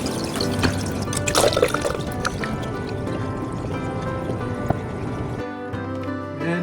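Hydroponic nutrient solution pours into a reservoir as a steady trickling, splashing stream with gurgles and drips, close by, before the pour cuts off near the end.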